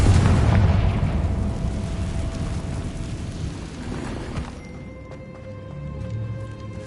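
Fiery Confringo spell explosions in the video game Hogwarts Legacy, a loud booming burst at the start that rumbles and fades over several seconds, with game tones ringing underneath near the end.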